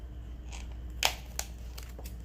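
Scissors snip through paper near a stapled craft journal page: a couple of short, crisp cuts stand out above a low steady background hum, with no talking.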